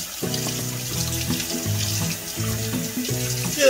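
Tap water runs steadily into a sink while catfish pieces are rinsed and cleaned by hand, a close, continuous splash with shifting, gurgling tones.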